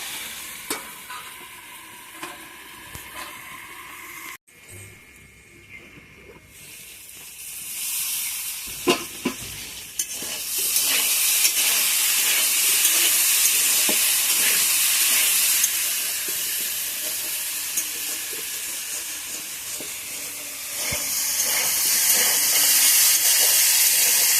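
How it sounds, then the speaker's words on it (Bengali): Potatoes sauté in a hot covered wok, giving a continuous sizzling hiss that grows louder and brighter after a brief lull, with scattered clinks and stirring scrapes and no talk. "আলুগুলো খুব সুন্দর করে সাতলানো হয়ে গেছে"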